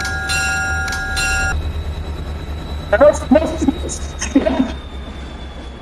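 A train runs in a video game, with steady horn-like tones for the first second and a half over a continuous low rumble, while players talk over it.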